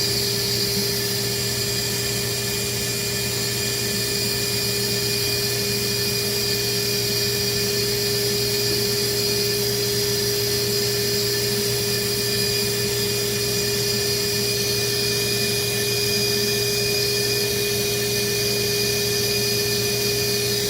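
A vacuum seeder runs continuously while trays are filled with pelleted seeds, a steady whining hum with sharp tonal whistles, loud and unchanging throughout with no talk.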